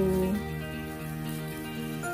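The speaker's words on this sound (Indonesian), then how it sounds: "itu kuahnya sudah mendidih" Chicken feet soup broth for soto ceker ayam boiling in a pot, a steady close bubbling and watery churn that holds at a constant level with no talking over it.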